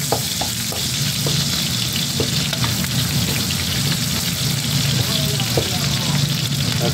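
Garlic, onion and ginger sautéing in hot oil in a pan for Ilokano-style ginataang laing, a steady loud sizzle throughout with occasional light utensil taps.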